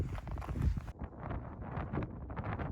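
Gusty wind on a mountain buffets the microphone with low rumbling bursts, steady and fairly loud, with scattered rustling and thumps.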